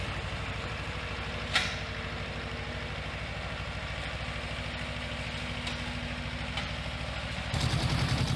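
The small engine of an Iseki TS1610 tractor idles steadily with a low, rhythmic chugging, with a brief clink early on and a louder rumble near the end.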